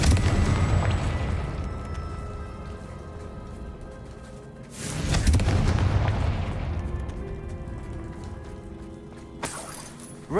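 Loud, booming fire-blast spell explosions from Confringo in the game Hogwarts Legacy, with a heavy blast at the start, another strong burst midway and a sharper one near the end, each trailing off in a rumbling decay.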